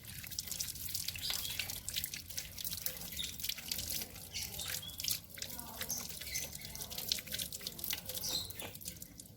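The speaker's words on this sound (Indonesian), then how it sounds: "Lalu membilasnya dengan menggunakan air mengalir." A tap runs steadily over a sink as hands are rinsed after handwashing, with a continuous splashing hiss and small irregular drips and slaps of water, fairly faint and close.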